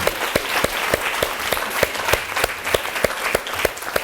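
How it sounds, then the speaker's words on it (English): Audience at an extensive reading world congress in Seoul claps steadily in a hall, a moderately distant round of applause with individual sharp claps standing out. "a big round of applause"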